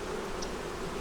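Agitated honeybees drone around an open hive in a brief, steady, even hum, close by, with no voices present.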